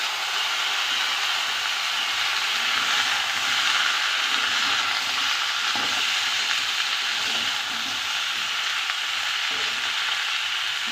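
Cauliflower, beans, potato and chopped tomato fry together in a pan for a winter-vegetable rohu fish curry, giving a steady, dense sizzle with faint stirring scrapes throughout and no talking.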